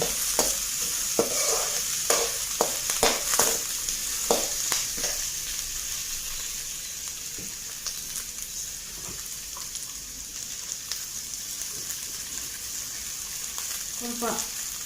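Ivy gourd shallow-frying in oil with green chillies and curry leaves, a steady close sizzle with frequent sharp crackles and stirring clatter, loudest early and settling into a continuous hiss.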